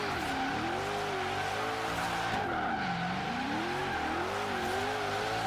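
A car drifts in Forza Horizon 3, its tires skidding in a long, steady squeal over a droning engine whose pitch swoops up and down through the slide, loud and continuous.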